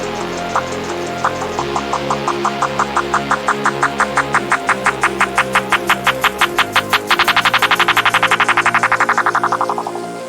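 Automated drum loop in a liquid drum and bass track built in FL Studio, with rapid, evenly spaced hits that grow denser and brighter as the filter opens into the drop, then fade out.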